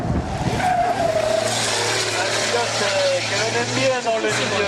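A racing truck drives hard at a truck cross event, its engine roaring loudly and steadily with tire skids throughout, while a commentator talks over it.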